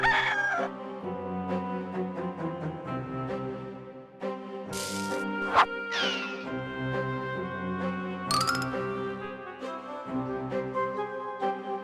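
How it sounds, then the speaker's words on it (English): Cartoonish rooster crowing from the Discworld II video game, the drunken bird giving several warbling, slurred crows over a continuous game music bed, close and fairly loud. "One rooster, totally plastered."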